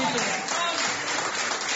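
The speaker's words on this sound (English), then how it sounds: "Big round of applause to everybody here at the Eagles Club for making this happen tonight." Audience applause fills a bar comedy venue at the Eagles Club, a dense, steady wash of clapping held at full strength for the whole short stretch.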